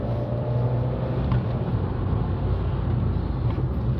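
Fiat 500 Abarth engine pulling hard past about 3,000 rpm, a steady low drone heard from inside the moving car.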